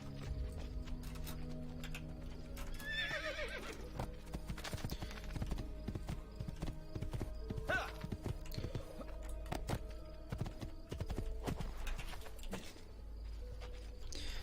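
Horse hooves clip-clop in a steady, rapid rhythm through a street scene in Assassin's Creed 2, moderately close, with a brief whinny and clattering game sounds layered over a low ambient drone.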